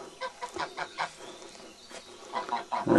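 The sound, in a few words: geese honking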